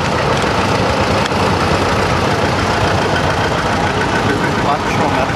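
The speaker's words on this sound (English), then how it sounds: "Now we've got Gary with his Farm All F14." Farmall F14 tractor engine running at a machinery rally in Kumbia, Australia, a loud, steady, rough idle with a knocking chug, close by and continuous.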